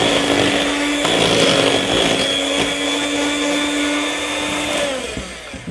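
An electric mixer beats cake batter made with egg yolks and whites for a Milo cake. It makes a steady, high motor whine close to the microphone, then winds down near the end, with no talking.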